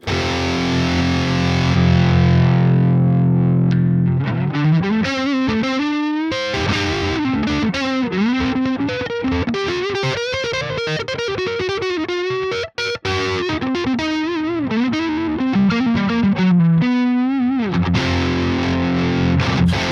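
Crunchy, distorted electric guitar tone from the Bogren Digital Über Metal amp plugin, playing chords and riffs, loud and continuous, with a brief cutout midway and no talking.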